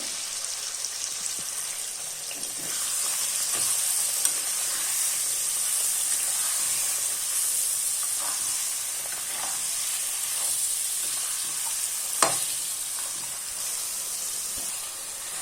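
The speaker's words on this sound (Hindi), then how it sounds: "अब हम डालेंगे चिकन। चिकन के साथ मसाला पकाएंगे।" Chicken frying with spice masala in a pan while cooking butter chicken, giving a steady, close sizzle with soft hiss and occasional light stirring clinks.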